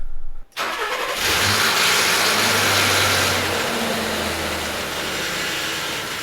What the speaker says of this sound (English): we'll go ahead and start the car for about 5 seconds